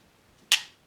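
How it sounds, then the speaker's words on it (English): A single sharp pistol dry-fire trigger click against a wall, a near, isolated snap with a short decaying tail in an otherwise quiet room. "I'm going to go ahead and fire, dry fire."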